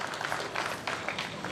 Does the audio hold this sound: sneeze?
no